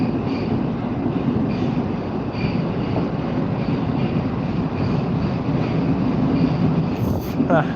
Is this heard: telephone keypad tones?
no